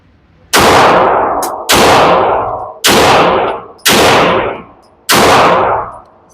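Five loud, sharp pistol shots are fired at a target, spaced roughly a second apart, each with a ringing decay.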